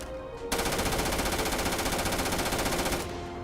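Rapid automatic gunfire from a gun in the Starfield video game, a loud sustained burst of tightly spaced shots lasting about two and a half seconds after a brief quieter lead-in.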